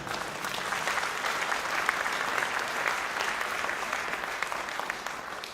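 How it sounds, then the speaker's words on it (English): A Conservative Party conference audience applauds steadily, a dense, even wash of clapping from a large hall crowd that holds at a constant level throughout, with no one speaking over it. "you can applaud that if you want."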